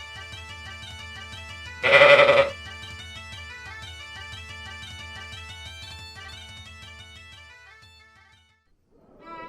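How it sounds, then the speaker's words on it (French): Sheep on salt meadows on Achill Island, Ireland, bleating in a loud, close call that stands out briefly over sustained music, followed by a faint sound near the end. "Les moutons paissent dans les prés salés."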